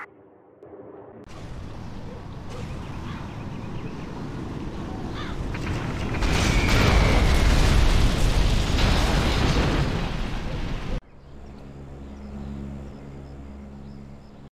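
Continuous bombing explosions in the C&C Shockwave final battle, heavy booming rumble that swells to a loud peak and then cuts off abruptly, leaving a low droning hum.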